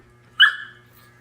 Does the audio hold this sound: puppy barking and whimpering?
yes